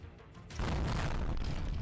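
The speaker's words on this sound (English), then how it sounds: "A rumbling explosion comes from above and shakes the earth." A rumbling explosion from above in the Girls' Frontline game hits suddenly after a quiet moment and rolls on as a loud, sustained low boom that shakes through to the end.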